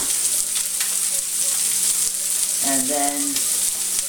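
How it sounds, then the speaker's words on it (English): A hot pan deglazed with leftover food, giving a loud, continuous hiss that runs throughout, with a voice speaking briefly over the sizzle. "So, that is going to be used to deglaze the pan."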